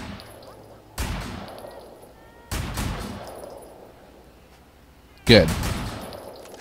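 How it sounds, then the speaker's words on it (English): Three loud gunshots fired in celebration in the video game Sleeping Dogs, spaced about a second and a half apart, each with a lingering echoing tail, with a brief spoken word between them. "Fire off a few shots to celebrate."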